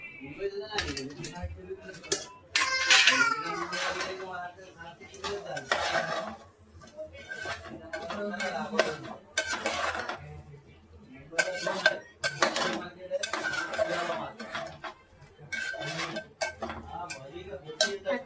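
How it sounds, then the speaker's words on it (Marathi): Crabs dropped into simmering masala in a cooking pot for a Maharashtrian crab curry, with clattering utensil and pot clinks, stirring scrapes and sizzling in bursts, close, under intermittent talk. "आता टाकूया खेकड्या."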